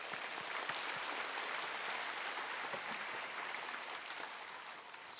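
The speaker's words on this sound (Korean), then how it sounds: "하나님께 영광의 박수를 올려드립니다." A church congregation claps together, a dense, even wash of applause that holds steady throughout and is heard from some distance.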